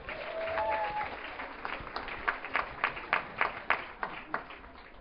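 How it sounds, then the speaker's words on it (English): Audience applause at a conference, starting as a blended murmur of clapping and settling into a few distinct, close individual claps at an irregular rhythm toward the end. "Okay, give them an applause."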